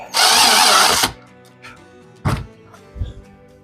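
Power drill driving a step drill bit through a Jeep 4xe panel, heard as one loud, close, second-long burst of high whirring, followed by a couple of short dull thunks.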